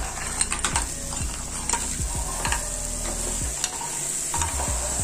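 Crab pieces frying in a pan for a spicy South Indian crab masala, a continuous loud sizzle with repeated metallic scrapes and taps of a ladle stirring through it.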